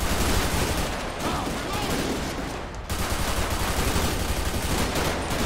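Rapid bursts of gunfire in a police shootout in GTA 5 with the LSPDFR mod, loud, dense, near continuous shots and volleys throughout with no clear gaps.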